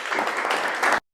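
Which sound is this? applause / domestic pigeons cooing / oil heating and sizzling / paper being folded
applause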